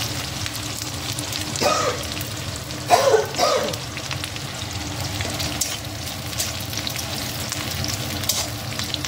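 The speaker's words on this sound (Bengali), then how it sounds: "আগে আলু উচ্ছেটা এর সাথে ভেজে নেব" Dense, steady sizzling of potatoes and bitter gourd frying in oil, close up, with a couple of brief stirring scrapes partway through; no talking.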